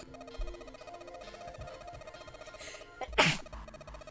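A single sharp sneeze cuts through quiet background music with a beeping tone, brief and close, late in the stretch.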